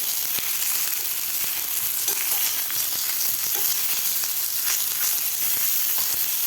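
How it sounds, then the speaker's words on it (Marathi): Raw mango and tomato pieces fry in a pan for a chutney, giving a steady, loud, close sizzle with faint crackles and occasional utensil ticks, no voices throughout. "दोन्ही साईडकडून आपल्याला व्यवस्थित हे फ्राय करून घ्यायचं आहे टोमॅटो आणि कैरी।"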